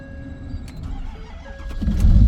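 Old plow truck engine cold starting, a starter cranking briefly before the engine catches and its low rumble swells louder toward the end, close and alone without talk.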